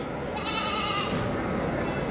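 Goats with young kids bleat at a small-livestock market in Çorum, Turkey, with one clear drawn-out bleat rising above a busy crowd murmur and background chatter.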